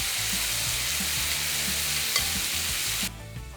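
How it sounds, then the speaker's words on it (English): Marinated mushrooms fry over medium-high heat in a pan, giving a steady, close sizzle with soft, repeated stirring scrapes, before the hiss drops away sharply near the end. "So the mushrooms have been marinating for about 15 to 20 minutes and now it's time to heat them up again."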